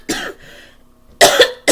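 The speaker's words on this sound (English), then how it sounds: "I'm sorry I coughed" Two loud, close coughs from a woman, one a longer burst and the other a shorter repeat, then the start of a third, all heard alone with no talk.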